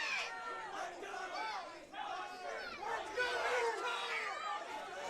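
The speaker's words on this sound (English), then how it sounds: "This crowd is going wild." A crowd roars and cheers wildly at an MMA fight, dense excited shouting and whooping that rises and falls in waves, with a commentator's voice faintly mixed into the din.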